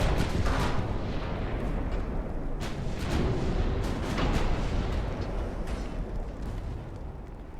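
Naval gunfire in the Ultimate Admiral: Dreadnoughts video game: a dense rumble of repeated heavy booms and cannon blasts, with several sharp reports standing out over a continuous low roar.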